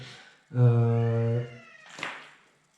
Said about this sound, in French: j'ai le chat qui fait des siennes derrière et essaie de participer à la vidéo